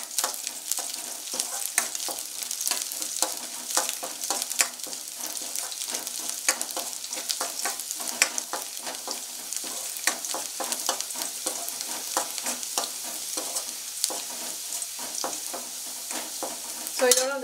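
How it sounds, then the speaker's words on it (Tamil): Finely chopped garlic fries in a pan for a Gobi Manchurian, giving a steady, close crackling sizzle with frequent small pops and stirring scrapes throughout, with no talking. "இந்த குட்டி குட்டியாக சாப் பண்ணி வச்சுருக்க அந்த பூண்டை சேர்த்துக்கோங்க. ஸோ இது நல்லா ஃப்ரை பண்ணிக்கோங்க"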